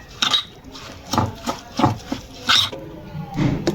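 Chicken pieces being mixed with marinade and vinegar in a bowl, giving wet, clinking stirs in uneven bursts at close range with no talking.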